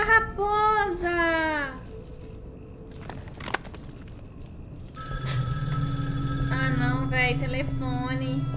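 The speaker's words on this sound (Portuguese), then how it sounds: "telefone." Telephone bell ringing in a Portuguese-language choice-based video game starring real actors, repeated rings sounding over background game music, with a voice talking near the start.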